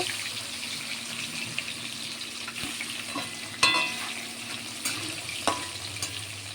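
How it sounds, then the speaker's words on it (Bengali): Large pieces of katla fish frying in hot oil in a kitchen pan give a steady soft sizzle, broken by a few sharp clatters and stirring knocks from utensils, with no talking. "মাছটা ভাজা করছি, মাছটা ভাজা দিয়ে ঘি গরম মশলা দিয়ে একটু ঝোল করব।"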